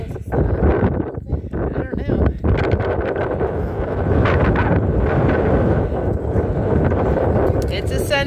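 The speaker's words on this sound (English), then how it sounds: "A little windy and chilly up here today." Strong gusting wind on top of Bromley Mountain buffets the microphone in a loud, continuous roar that rises and falls, with rumbling low-end pressure throughout.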